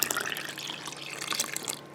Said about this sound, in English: so instead of shaken buttermilk, I'm going to add water